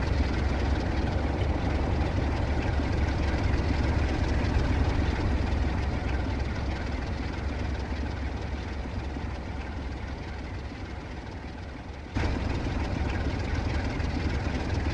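A train's diesel engine in Train Sim World 3, on a UK line, runs in a steady low rumble that holds loud and even, dips slightly, then steps back up near the end, with no voices.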